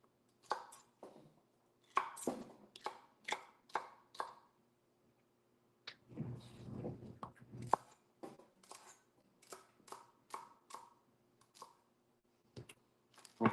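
A knife chops celery on a cutting board in a quiet kitchen, giving a series of crisp, close taps in uneven bursts with a short muffled shuffle midway.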